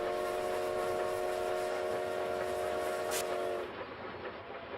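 A steam train runs in the Bounty Train video game, with a steady rolling rumble and a sustained whistle-like tone for over three seconds, a brief hiss near the end, then the sound drops away.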